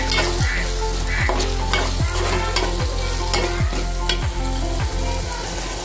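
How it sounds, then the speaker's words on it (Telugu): Raw prawns frying in a pan, a loud continuous sizzle with a regular series of about eight spatula scrapes against the metal, close up and without voices. "ఇప్పుడు దీంట్లో పచ్చిరొయ్యలు వేసుకుందాం. ఇవి కూడా ఫ్రై చేసుకుందాం."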